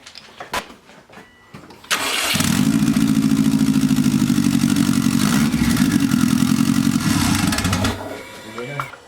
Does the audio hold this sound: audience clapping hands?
no